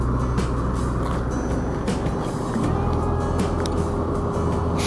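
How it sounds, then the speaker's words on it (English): A heavy truck engine labours under load on the Alcan highway bound for Alaska, a steady low drone with road rumble running continuously throughout, fairly loud and close. "Hear that truck's really working."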